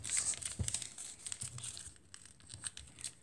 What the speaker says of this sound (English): now you're gonna fold these in here